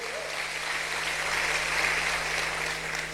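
A church congregation applauds God during a sermon, a steady wash of many hands clapping together at an even level for the whole few seconds, with a faint hum beneath.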